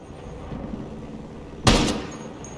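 Single loud, sharp M82 sniper rifle shot in Ghost Recon Breakpoint, a broadband crack about two-thirds through that decays over a few tenths of a second over a low steady game ambience.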